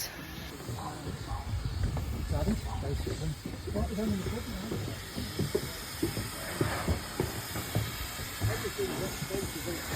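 A steam locomotive on the Severn Valley Railway hisses steadily and loudly throughout, a continuous nearby rush of escaping steam with a faint high whistle-like tone above it, while people talk underneath.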